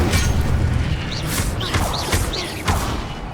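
Casting the Incendio fire spell in the Hogwarts Legacy video game brings a dense roaring whoosh of flames with repeated bright crackling bursts and thuds, loud and continuous for a few seconds with no talking.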